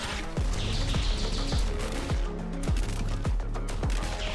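Side shotguns fire in the Isaac Gauntlet video game, a run of about eight punchy blasts at a steady rhythm roughly half a second apart, loud over a busy game soundtrack.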